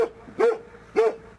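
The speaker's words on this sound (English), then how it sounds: "A pack of dogs greeted us at the helicopter pad" Dogs at a remote Arctic meteorological station's helicopter pad give two close, loud barks about half a second apart, tonal and slightly yelping, over a steady background hum.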